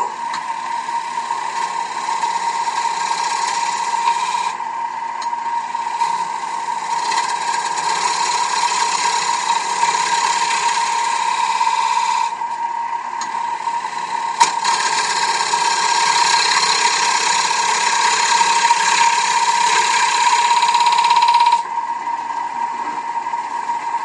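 A wood lathe spins a bowl while a 3/8 traditional grind gouge cuts the rim, giving a steady loud motor whine with a bright hissing shave that rises and drops as the tool engages and lifts off, no voices.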